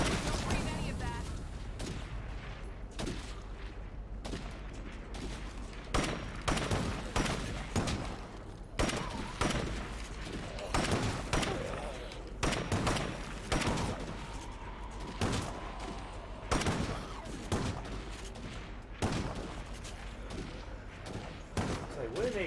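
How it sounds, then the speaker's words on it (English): Dense video game gunfire crackles without pause: rapid overlapping shots and bursts from several weapons, loud and close, with fainter pops farther off, under a steady background rumble. "It's like, what are they shooting at?"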